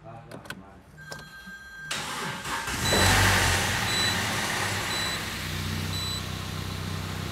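An Audi A4 with a weak battery is cranked and then starts. A few clicks and a short, strained crank give way to a steady idle that rises into a loud, close running engine.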